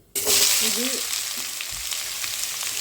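Sliced onions hit hot oil already holding cinnamon, cardamom and cloves for mutton biryani, starting with a sudden loud sizzle that settles into a steady frying hiss; a brief voice sounds near the start.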